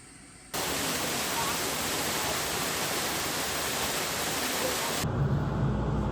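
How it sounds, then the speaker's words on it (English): A waterfall seen from a pull-out along the Route of the Hiawatha rail trail: a loud, dense, continuous roar of falling water that starts abruptly and holds steady, near and alone. "you get to see this nice waterfall"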